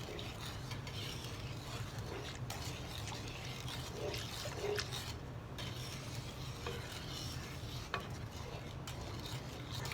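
A glutinous rice mixture for biko is stirred in a deep pan, making a continuous low scraping and squelching churn with occasional utensil knocks, heard close.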